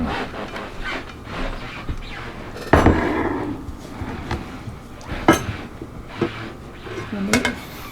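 A heavy Le Creuset pan is handled while garlic and olive oil pasta is served, with scattered metallic clanks and knocks, a couple of sharp loud hits, and soft scraping between them as people talk.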